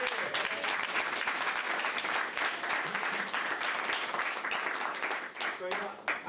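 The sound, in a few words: audience applause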